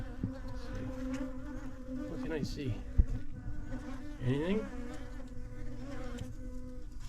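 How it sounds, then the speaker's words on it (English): Bees buzzing around a beehive hidden in overgrown brush, a close, steady drone with individual insects flying past, while people talk quietly nearby. "There's definitely a beehive in there."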